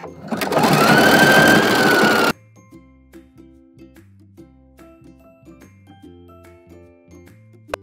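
A sewing machine stitches around a sweater sleeve in a fast, loud, continuous whir for about two seconds, then stops abruptly, leaving soft plucked background music.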